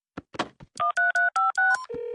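A telephone being dialed in the cartoon Gravity Falls: a few soft clicks, then five quick electronic keypad tones followed by a longer steady tone, close and clear with no talking.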